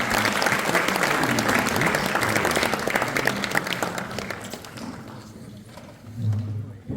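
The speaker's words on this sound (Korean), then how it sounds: "다시 한번 또 박수로 환영해 주시기 바랍니다" An audience at a Presbyterian church presbytery general assembly in Seoul welcomes a new vice-moderator with loud, dense applause that fades over several seconds. A brief low murmur follows at the end.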